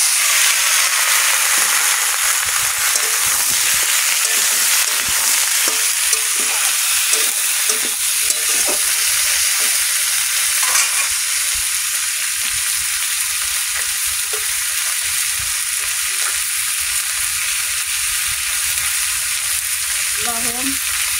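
Ridge gourd, pui greens and potato fry in a pan for a shrimp dish, giving a loud, steady sizzle broken by stirring clatter and occasional sharp pops, with no voices.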